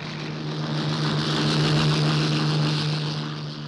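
A WWII Luftwaffe propeller aircraft taking off produces a steady, loud droning engine hum that swells slightly and then eases, with no speech over it.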